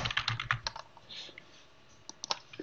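Keys on a computer keyboard tapped as a short password is typed, a quick burst of close clicks, a brief pause, then a few more keystrokes, quiet with no talking.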